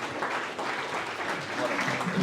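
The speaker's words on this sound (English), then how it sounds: "let's have a round of applause for both of these boxers" A round of applause for two boxers after a Tank Promotions boxing bout, steady dense clapping from the crowd that fills the hall throughout, fairly loud and even with a slight rise toward the end.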